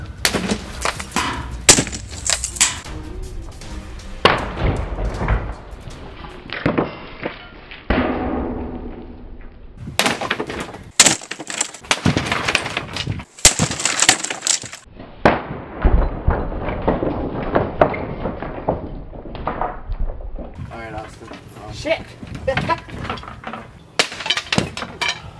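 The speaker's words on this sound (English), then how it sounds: "Today we pit a sledgehammer versus a crib." A sledgehammer smashes a wooden crib in a series of loud, irregular crashing and cracking blows with splintering, bursts spread unevenly over time and close to the listener.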